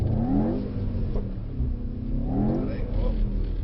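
A Mercedes-AMG GT63S on a race track, its engine droning and rising and falling in pitch as it accelerates, steady and close, with a voice talking over it.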